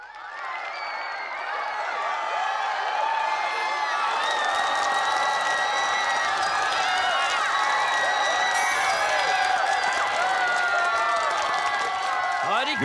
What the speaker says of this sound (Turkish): Ve 4 numara Ruby ve marjinaller için alkışlarınız.